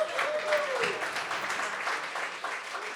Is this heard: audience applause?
yes